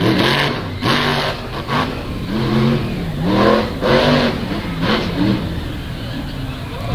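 A monster truck with Kevin Stauffer horsepower, in a truck built by Eddie Matchka, revs loud and close at a West Lebanon event, its engine note rising and falling in continuous surges.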